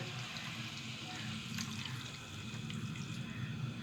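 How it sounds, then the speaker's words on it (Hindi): A cup of water pours into a cooking pot holding mutton, tomatoes and ghee, a faint steady liquid rush and trickle over a low kitchen hum. "और अब इसमें 1 कप पानी डालेंगे।"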